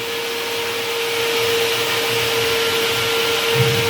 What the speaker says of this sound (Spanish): como podemos escuchar, el ventilador se está activado